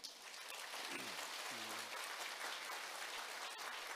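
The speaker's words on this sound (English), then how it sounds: "let's all clap for him" Audience applause at a company lecture, a dense steady wash of clapping from a crowd heard from a distance at low level, with a brief faint tonal sound partway through.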